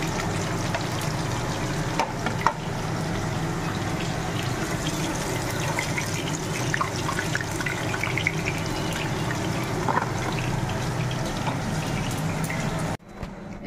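Marinated chicken pieces sizzle steadily in rice bran oil on a tawa, a continuous crackling fry with small pops throughout, ending abruptly.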